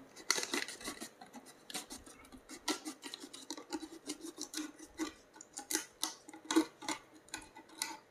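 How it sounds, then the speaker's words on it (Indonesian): Scissors snip repeatedly through a plastic bottle in a steady series of close, crisp cuts with scraping between them, no talking, while preparing a container for hatching brine shrimp. "Kita gunakan gunting, kita potong."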